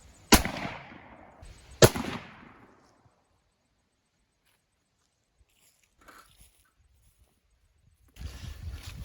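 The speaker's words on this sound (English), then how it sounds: "shoot a few more and make sure" Two loud, close rifle shots ring out about a second and a half apart while sighting in for deer season, each with a decaying echo, followed by long near silence and some faint rustling at the end.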